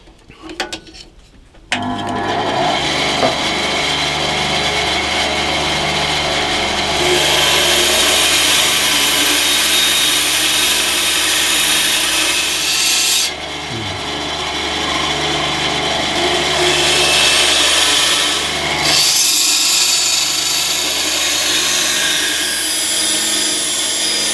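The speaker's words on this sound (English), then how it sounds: "cut whatever I can on the bandsaw" A bandsaw cuts through wood while rough-shaping a guitar neck. It makes a steady, loud, continuous mechanical whine that runs almost the whole way through, with brief dips in level where the cut pauses.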